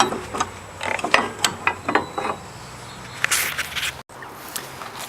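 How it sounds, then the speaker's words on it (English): A ratchet wrench loosens the pinch bolt on a car's suspension fork during a CV drive axle change, giving close, quick clicking bursts followed by a few sharper metallic taps. "You also need to remove the pinch bolt that's on the fork."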